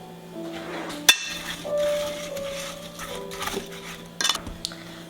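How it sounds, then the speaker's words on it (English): Spoon clinking and scraping in a pot while stirring homemade baby food puree with water and cinnamon, a sharp metallic knock early on and a cluster of clinks near the end, close and fairly quiet. "you're going to mix it up"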